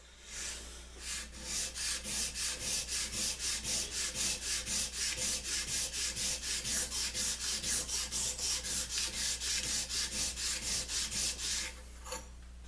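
Abrasive paper worked against a spokeshave to remove deep scratches, producing around forty quick, evenly spaced rasping strokes in a steady back-and-forth rhythm, close and fairly loud, with no one speaking.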